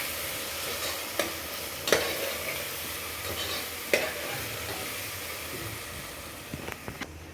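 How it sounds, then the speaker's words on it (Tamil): Ginger garlic paste with onion and tomato sautés in a pan with a steady frying sizzle, punctuated by a few sharp scrapes and clinks of a stirring spoon. "இஞ்சி பூண்டு நல்லா வதங்கட்டும்."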